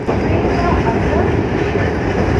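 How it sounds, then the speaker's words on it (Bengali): A Kolkata local train pulls out of Remount Road station, a loud, close, continuous rumble of wheels and carriages rolling over the rails with faint clatter. "এই রিমাউন্ট রোড স্টেশন থেকে ট্রেন ছেড়ে দিয়েছে পরের স্টেশনের উদ্দেশ্যে"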